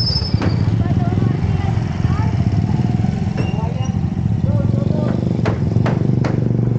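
A motorcycle engine runs close by with a steady low rumble through the whole stretch, under talk and road noise, with a few sharp clicks standing out.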